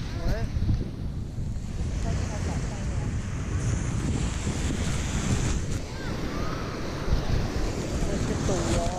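Ocean waves break and wash on a shore in a loud, continuous surf roar with heavy wind buffeting the microphone, swelling and receding without pause.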